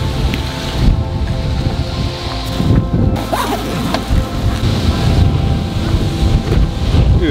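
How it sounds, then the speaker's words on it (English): Strong wind roars steadily outdoors, battering the microphone with a dense, loud rumble and rushing gusts throughout, no talking. "Look how windy it is."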